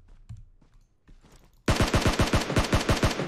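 Rapid automatic gunfire in the mobile battle royale game PUBG Mobile, a loud, steady burst of about a dozen sharp shots that starts abruptly after a quieter stretch of faint game noise.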